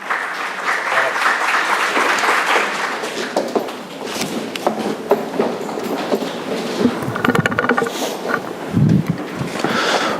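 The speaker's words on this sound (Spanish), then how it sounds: "Con un fuerte aplauso recibamos desde Argentina a don Ignacio Blas Codina" Applause from a conference audience welcoming a speaker at a 2015 congress in Costa Rica, a steady wash of clapping that runs throughout at moderate loudness, with a few louder bursts toward the end.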